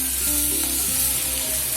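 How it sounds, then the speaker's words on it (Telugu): Boiled cluster bean pieces stirred into a hot oil tempering in a pan, a continuous close sizzle with soft stirring sounds, no talking. "ఈ గోకరకాయ ముక్కల్ని ఇప్పుడు ఈ తాలింపులో వేసుకొని ఇలా బాగా కలుపుకొని"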